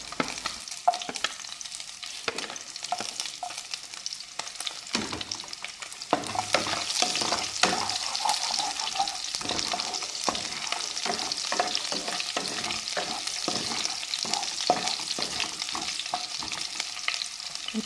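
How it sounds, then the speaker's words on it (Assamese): Chopped onions and a little cumin sizzle steadily in leftover oil after frying fish for a snake gourd fish curry, stirred with scraping strokes throughout, close and fairly loud with no talking. "তেলতে অলপমান জিয়া আৰু কাটি ৰখা পিঁয়াজখিনি দি ৰঙচুৱা পৰালৈকে ভাজি থাকিম"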